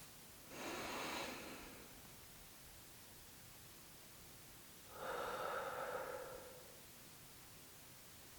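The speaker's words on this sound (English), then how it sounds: "let's close on a deep breath" Two slow deep breaths, a long inhale followed a few seconds later by a long exhale, soft and close against quiet background hiss with no talking.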